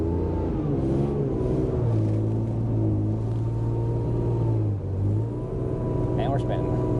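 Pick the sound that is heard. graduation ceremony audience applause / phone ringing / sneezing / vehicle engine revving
vehicle engine revving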